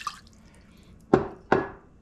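Warm water, around 100 degrees, poured into a bowl while mixing Detroit-style pizza dough: a few soft splashes and then two distinct close drips or plops, quiet with no talking.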